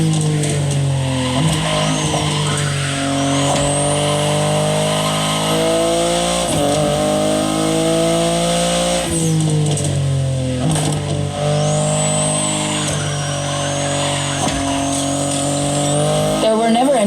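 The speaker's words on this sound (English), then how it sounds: "the sports car you're driving." BMW i8 hybrid sports car in The Crew Motorfest racing game, its engine droning loud and steady throughout with rising and falling revs and occasional tire squeal.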